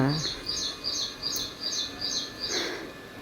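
Small birds chirp in a steady repeating pattern of short bright calls on a rainy morning, fairly faint and at a distance over a soft background hiss.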